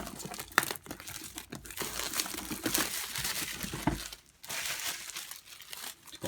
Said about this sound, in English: Let's start with unwrapping it.